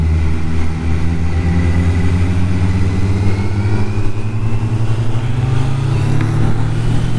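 A motorcycle rides steadily around a turn, its medium engine droning loud and close throughout with a slight rise in pitch toward the end.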